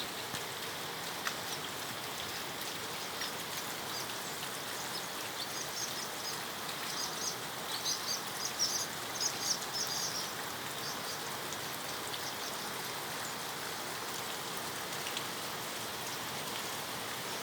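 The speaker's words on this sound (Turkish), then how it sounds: "Orada az yağmur oluyor." Steady soft rain patters on a tarp, a constant gentle hiss with occasional louder drips and faint bird calls in the background.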